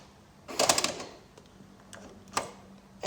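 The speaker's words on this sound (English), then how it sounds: "To lock the car, press this black button on any of the door handles." A few sharp mechanical clicks and a short clattering thunk, spaced apart against a quiet background, as a 2013 Mini John Cooper Works Coupe's door locks engage.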